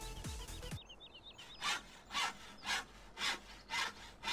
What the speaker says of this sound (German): So hört sich dann auch die andere Säge an.